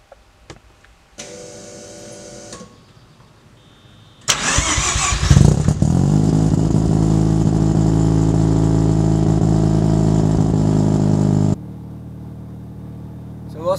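A Mazda RX-7 FD car engine starts up and settles into a loud, steady idle or drive-off running drone lasting several seconds, preceded by brief clicks and a lower electrical hum, then dropping back to a quieter hum.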